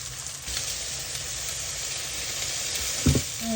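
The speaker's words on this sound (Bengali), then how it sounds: "সামান্য একটু পাঁচফোড়ন দিয়ে দিলাম" Panch phoron seeds with a little onion crackle and sizzle in hot oil, a loud, dense, steady hiss close up, with a brief clatter of stirring near the end and no voices.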